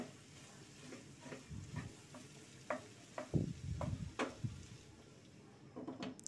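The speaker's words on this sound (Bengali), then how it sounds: "এবার একটু নেড়ে নেব।" Sliced okra and grated potato frying in a pan are stirred, a run of soft scraping strokes and clacks over a quiet, steady sizzle.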